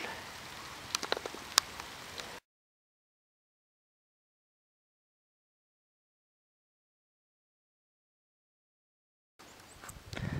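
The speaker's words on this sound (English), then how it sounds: "So, crazy cooler out here getting rained on." Rain patters on surfaces outdoors in a front yard with a steady, fairly faint spatter and a few sharper drops, heard in two short stretches separated by a long silent gap.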